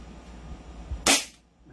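A single sharp crack from an SRC Hi-Capa airsoft pistol rings out once, close and loud, after a quiet stretch, then dies away quickly.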